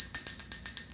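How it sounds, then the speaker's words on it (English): A small squirrel bell shaken close by, giving about six quick bright metallic rings in a jingling burst. "get out my handy dandy squirrel bell"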